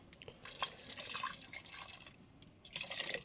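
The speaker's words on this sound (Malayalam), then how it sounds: "ചൂടുവെള്ളമാണ് ഒഴിച്ചു കൊടുക്കുന്നത് ചെറു ചൂടുവെള്ളമാണേ" Lukewarm water poured into a cooking pot of taro and onions, a bright splashing trickle with drips that swells and fades, close and fairly quiet, with no talk.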